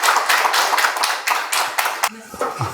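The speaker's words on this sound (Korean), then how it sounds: "우선 박수로 환영해" Audience applause welcoming a guest monk at a talk, a dense patter of many hands clapping for about two seconds before breaking off into quieter room sound with a faint voice.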